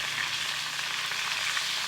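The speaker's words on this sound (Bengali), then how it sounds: "মাছগুলো ভাজতে একটু সময় লেগে যাচ্ছে" Fish frying in hot oil in a pan gives a steady, close, dense sizzle that holds evenly throughout with no voices.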